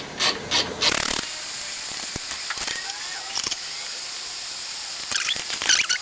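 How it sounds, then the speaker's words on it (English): Ratchet loosening the suspension nuts on a 2022 Toyota Tundra, loud bursts of rapid clicking ratchet strokes near at hand, separated by pauses and metallic handling. "loosen the control arm bolt nuts"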